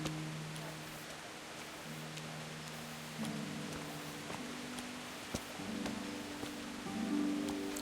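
Steady soft rainfall in the medieval game Kingdom Come: Deliverance, a low continuous hiss of drops under quiet sustained music tones, with a few sharper taps scattered through.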